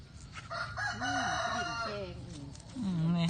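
Rooster crows nearby during a mushroom-foraging outing, a clear drawn-out cock-a-doodle-doo with a second crow rising near the end, with faint voices around it.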